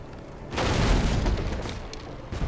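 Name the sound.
firebrand cannons firing in video game Pirates Online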